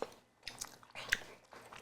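Close, crunchy chewing of spiced jerk food topped with fried onions, in a few soft bites and crunches spread over a couple of seconds, with no talk.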